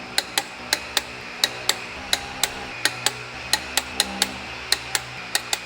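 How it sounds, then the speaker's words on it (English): Torque wrench clicking repeatedly while wheel nuts on a Nissan Patrol 4WD are tightened to about 120 newton meters, a steady series of sharp, close metallic clicks spaced roughly every half second with no talk. "got the torque wrench, mate. We go over newton meters, 122 is what I've got it set to."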